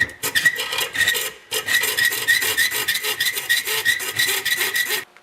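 A small engine muffler bolt with a nut threaded on has its end cut off by hand, giving a steady rhythmic rasping of repeated saw strokes, close and fairly loud, with one brief pause and no talk.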